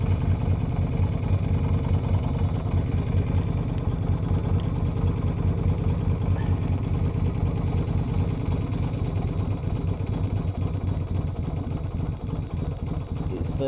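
A Yamaha Virago XV250 motorcycle fitted with pod filters idles steadily and close, its mid-pitched engine ticking over smoothly and evenly for the whole stretch without any revving.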